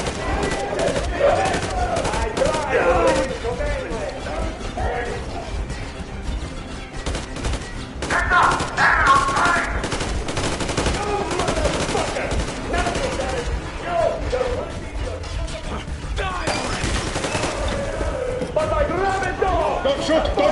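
Gunfire in the video game Metro Exodus, dense rapid volleys and bursts running steadily throughout, mixed with game noise and voices speaking.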